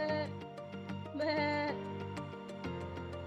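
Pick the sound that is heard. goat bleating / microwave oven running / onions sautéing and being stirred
goat bleating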